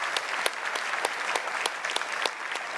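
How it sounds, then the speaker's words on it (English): Continuous crowd applause at a gala awards dinner, dense and steady with sharp individual claps standing out throughout. "A round of applause too for Australia, our great nation"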